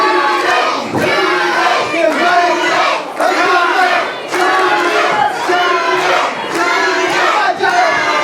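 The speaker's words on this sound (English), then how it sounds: "This crowd can be cheering as loud as they possibly can." A loud arena crowd at a tag-team wrestling match roaring and chanting in rhythmic surges, the noise rising and dipping in regular pulses for the whole stretch with no break.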